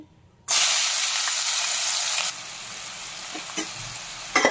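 Onions dropped into a hot pan with fried dry fish burst into a loud, bright sizzle that holds for a couple of seconds, then settles to a softer steady frying hiss with a few stirring clicks.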